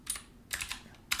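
Rapid keystrokes on a computer keyboard while editing code in Neovim, three short bursts of quiet clicky typing separated by brief pauses, close and alone.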